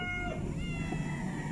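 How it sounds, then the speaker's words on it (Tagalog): A purebred cat kept caged upstairs gives a short, fairly distinct meow over a low background rumble. "merong isa doon na purebred na pusa sa taas, nakakulong"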